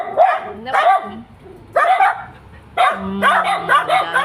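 Several dogs barking in short bursts near a backyard kamyas (bilimbi) tree, in three loud clusters with gaps between, while people talk over and around them.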